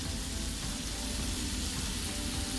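Onions and sausage frying in a soup pot for sausage and kale soup, giving off a steady, dense sizzle that stays even throughout with no talking.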